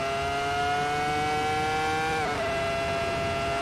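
Race-tuned car engine howling at sustained high revs on the Nürburgring Nordschleife, a loud steady tone that dips briefly around a shift or lift, then resumes, with no voices.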